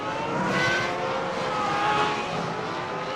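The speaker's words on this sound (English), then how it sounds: "do these cars sound incredible" A field of Dallara race cars at the Milwaukee Mile in the iRacing simulator produces a sustained, high-pitched engine howl that swells and fades slightly as the cars accelerate together.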